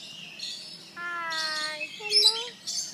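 Small pet birds chirp and tweet in a busy run of clear, repeated calls while being fed by hand, close by and fairly loud, with brief higher squeaky notes mixed in.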